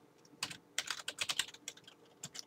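Typing on a computer keyboard, close and clear: irregular bursts of crisp key clicks, clustered in quick runs with short pauses between.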